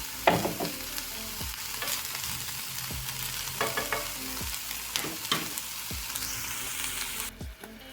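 Meat and onion sizzle steadily in a pan for Mexican-style beans, with repeated close scrapes and knocks of a spatula stirring, until the frying drops off near the end.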